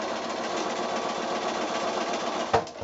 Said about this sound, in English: now I'm going to come back and sew on the other drawn line.